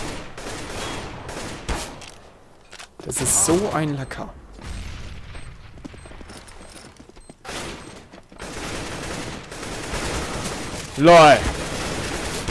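Automatic rifle sprays erupt in bursts during a Counter-Strike: Global Offensive match, crackling gunfire mixed with game effects while a player talks and laughs over the action.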